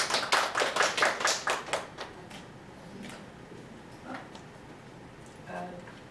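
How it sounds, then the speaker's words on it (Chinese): An indoor audience at a lecture applauds to welcome a speaker, a loud burst of clapping that fades within about two seconds, followed by quieter room noise and faint sounds. "所以我们今天鼓掌欢迎黄美英老师"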